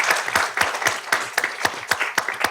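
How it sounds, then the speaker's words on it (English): Applause at a school board meeting honoring principals of the year, a modest crowd clapping in a room with distinct, fairly sparse claps close by. "So let's give them a round of applause, please."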